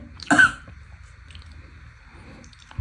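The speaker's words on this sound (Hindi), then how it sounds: "अब इनको खांसी भी हो गया है" A single short cough or throat-clearing from a person who has come down with a cough after drinking a cold drink, loud and close near the start, followed by quiet room noise.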